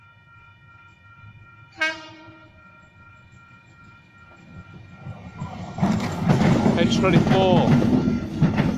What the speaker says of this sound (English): Seems like there's a southbound service also coming in at the same time.